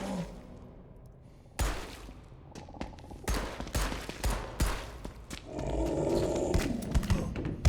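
Bursts of gunfire in the Pine Harbor demo video game, several sharp shots and rattling volleys over a few seconds, loud and close with thuds between them.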